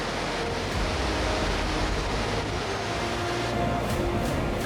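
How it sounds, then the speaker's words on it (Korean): Hyomyo Falls in Japan, a huge column of water plunging vertically down a rock face. It makes a loud, steady broadband roar with no pause and no voices. "요란한 소리와 함께 수직으로 떨어지는 거대한 물줄기."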